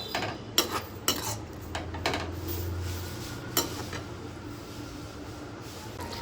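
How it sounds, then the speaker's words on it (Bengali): A utensil stirs fried tangra fish and eggplant in a pan, with several sharp clinks and scrapes of metal against the pan over a steady low sizzle, close up and without talk. "দিয়ে ভালো করে মিশিয়ে নেব।"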